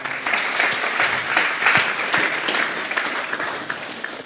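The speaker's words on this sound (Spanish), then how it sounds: "Vamos a darle una ofrenda de palmas a Dios en esta hora." Church congregation clapping together as an offering of praise to God, a dense, steady wash of many hands applauding at once, loud and close, with no talk over it.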